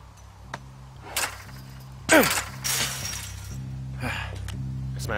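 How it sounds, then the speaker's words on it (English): A wooden gate is smashed open with a hatchet in the video game Firewatch, a sharp splintering crash with falling debris in the middle. Softer knocks come before and after it over a low hum of game ambience. "I smashed open the gate"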